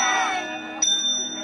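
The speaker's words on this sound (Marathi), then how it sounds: "त्याला म्हणतात घंटी" A small temple bell gives a single bright ding, a brief metallic strike whose tone lingers briefly over a steady background hum.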